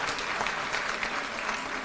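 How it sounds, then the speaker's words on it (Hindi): An audience at a Women's Day event organized by a women's commission in India claps loudly and continuously, a dense, steady burst of applause with no voices. "एक बार जोरदार ताली बजा दीजिए सब लोगों के लिए"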